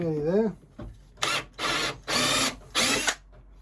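Power drill cleaning filler out of a wooden chair joint, running in three short bursts separated by pauses, close and fairly loud, after a brief spoken phrase at the start.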